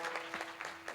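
Scattered audience clapping at a devotional kirtan gathering comes through as a short, fairly faint patter of overlapping claps.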